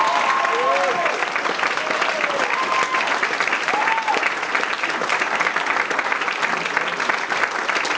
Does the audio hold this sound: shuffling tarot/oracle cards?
no